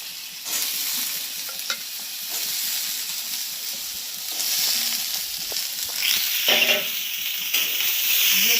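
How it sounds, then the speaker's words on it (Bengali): Potatoes fry in a pan for a Bengali thorer ghonto, with a steady close sizzle and hiss throughout and intermittent scraping stirs, growing slightly louder toward the end. "ভালো করে ভেজে নেব।"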